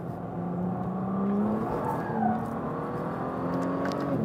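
Sporting GT car with a PDK dual-clutch gearbox from a Panamera, its engine humming and rising in pitch as it accelerates through gears, a steady close in-cabin drone with no talking.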